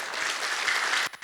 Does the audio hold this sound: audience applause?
yes